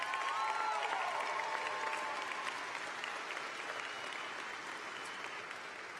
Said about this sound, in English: I think they deserve a lot of heartfelt applause from our graduates